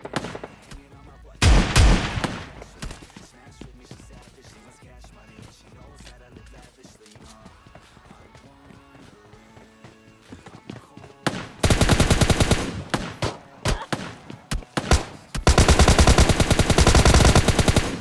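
Gunfire in the mobile game PUBG Mobile Lite, including a double-barrel shotgun, comes as sharp bursts and rapid volleys, loud and close, with scattered clicks and game effects between them.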